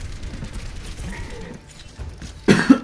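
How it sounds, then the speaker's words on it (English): A commentator coughing during an esports match, after a quiet stretch of low background murmur, with two or three sharp, close bursts near the end. "Sorry, I got a little bit of a cough"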